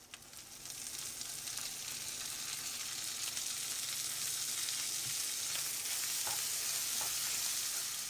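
Steady hissing sizzle of onions and tomatoes frying in a hot pan, continuous and close, with occasional stirring scrapes and no voices.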